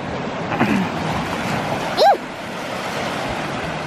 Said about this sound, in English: I like so many waves, Mom.